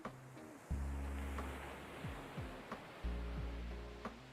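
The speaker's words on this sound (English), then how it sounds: "I just want to listen to the waves." Ocean waves in a video game, with low rumbling surges rolling in every second or so under a steady wash of surf and wind, alone without voices.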